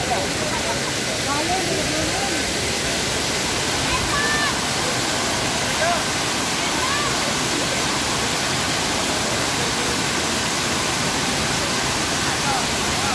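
The Benang Kelambu waterfall in the Lombok rainforest roars as a constant, loud rush of falling water, unbroken for the whole stretch, with faint voices barely audible beneath it.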